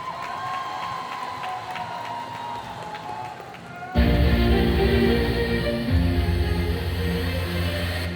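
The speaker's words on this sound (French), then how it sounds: "On peut encore l'applaudir" Audience at a cosplay contest bursts into loud applause and cheering partway through, with whoops rising over a full clapping crowd after a quieter stretch of hall ambience.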